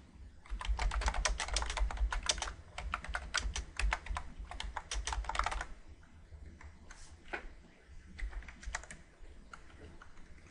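Rapid, fairly faint typing on a computer keyboard while entering HTML code, a dense burst of key clicks that thins into sparser, scattered taps with no voice.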